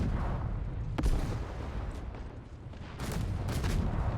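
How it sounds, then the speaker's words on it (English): Artillery fire in a Russian campaign war video game, booming impacts and rumbling explosions over a continuous low battlefield roar, with a couple of sharper blasts. "by the time our tracks are repaired, guess what's coming again? The artillery."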